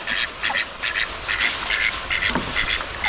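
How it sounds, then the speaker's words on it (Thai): Repeated duck quacks in short bursts, fairly close and clear, with a few irregular pauses between calls. "เป็ดกระ"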